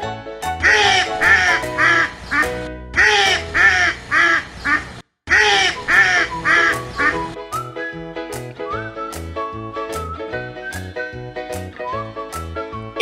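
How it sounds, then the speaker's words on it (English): Three bursts of harsh, raspy quacking over a steady, bouncy background melody, with a short gap between them; the music carries on alone afterward. "It's the sound of duck."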